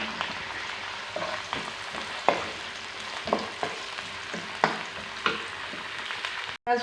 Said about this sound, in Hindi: प्याज को अच्छी तरह भूनेंगे।